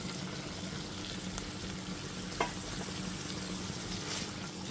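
Fried okra pieces are stirred into masala in a pan for a bhindi masala curry, giving a low, continuous sizzle with faint scraping of the spoon and one brief clink.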